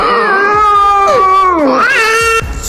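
A dog imitates a crying child, letting out loud, close, wavering wails and whimpering howls that rise and bend in pitch like sobbing, then break off near the end.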